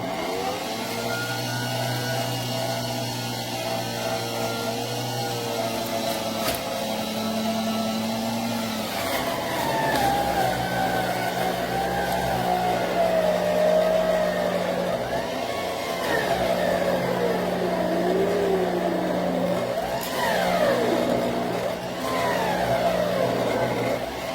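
A food processor or blender runs steadily with ingredients being pushed down into the bowl, a loud continuous motor whine rising and falling in pitch as the load shifts, with no talk over it.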